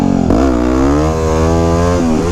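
Yamaha WR250X motorcycle engine revving hard in first gear while pulling wheelies, a loud close buzzing note that climbs sharply, holds high, then dips and rises again.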